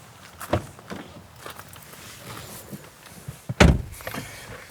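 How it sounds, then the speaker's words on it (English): A BMW 2 Series Gran Coupe door closes with a solid, dull thunk, preceded by faint handling noises and a softer knock earlier on. "the door shuts with a thunk"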